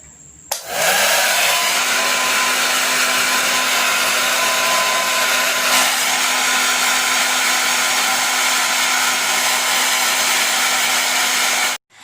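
A hair dryer blows steadily on freshly colored silvery ash hair, a loud, even whooshing hum that clicks on, runs unbroken for about eleven seconds, then cuts off.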